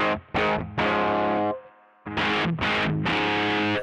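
An electric guitar through a Source Audio Classic Distortion pedal with scooped EQ plays heavily distorted chords in short, chugging bursts, with a brief pause midway, giving a thick, saturated tone.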